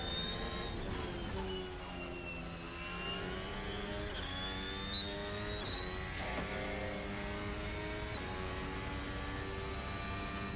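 Engine of the RSS Formula Hybrid Alpine 2025 open-wheel race car in Assetto Corsa, a loud, high-pitched hybrid engine holding a steady whine that rises through gears with brief shift dips, continuous and alone.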